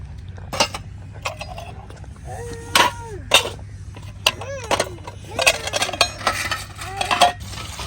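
Metal pots, pans and cutlery clink and clatter while being washed in a village home, with repeated ringing knocks and scrapes at close range over a low steady hum.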